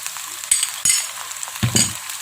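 Fermented soybean paste (tauco) being stirred in a frying pan for spicy stir-fried milkfish: a steady close sizzle broken by a few scraping stir strokes, with a louder burst of frying near the end and no talking.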